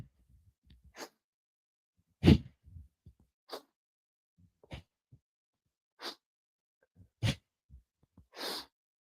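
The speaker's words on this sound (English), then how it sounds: "and powerful breathing. Can you hear my breath?" Forceful, controlled exhalations during an exercise movement, a series of about eight sharp breaths spaced roughly a second apart, close and clear with quiet pauses between.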